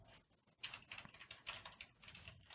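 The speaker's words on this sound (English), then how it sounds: "I hear you typing." Soft, fast clicking of keys on a computer keyboard, an uneven run of faint taps heard at a distance with no talking.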